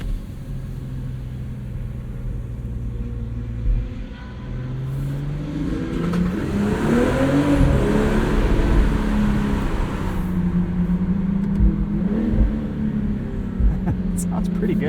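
A 2022 BMW M440i xDrive Gran Coupe's inline-six exhaust swells from a low rumble into a rising rev as the car accelerates, heard from inside the cabin, loud and steady, with a voice briefly over it.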